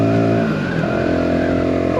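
A Voge R125 motorcycle engine revs loud and close, its steady tone dropping then climbing again in a quick throttle change, with no talk over it.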